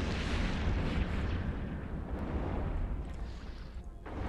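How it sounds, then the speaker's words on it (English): Missile impacts pound in an EVE Online space battle as a dense, continuous roar of overlapping booms and rumbling blasts, loud and steady throughout, with no voices. "We're also seeing the gorgeous missile effects in the game now, with all the missiles coming in from the Widow."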